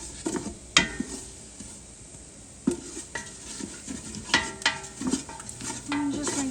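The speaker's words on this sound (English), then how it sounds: "Get some of that, most of that butter melted, making that nice roux." A utensil stirs butter melting into a roux in a pan, with repeated scraping and clinking against the metal over a light sizzle, close and moderately loud, with no talk.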